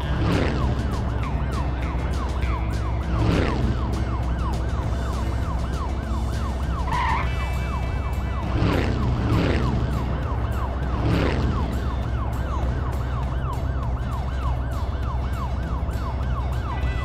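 A police car siren wails continuously in a steady repeating cycle, loud and close, over a constant vehicle engine drone.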